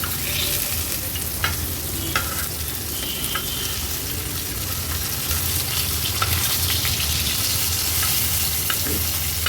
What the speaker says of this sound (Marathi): आता हे बोंबील पलटवले ना का तव्याच्या अशा साईडला करून घ्यायचे आहेत